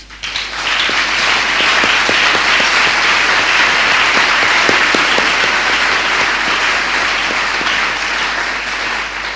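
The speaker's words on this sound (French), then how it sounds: "Applaudis pour David." An audience at a French-language religious gathering bursts into loud, dense applause that builds quickly and holds strong for several seconds, sharp individual claps standing out, with no talk over it.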